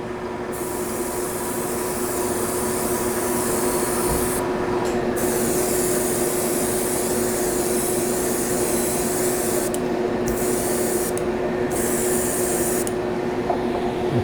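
An airbrush sprays an overall coat of paint onto a Tamiya model kit, producing a steady close hiss that stops briefly a few times between passes.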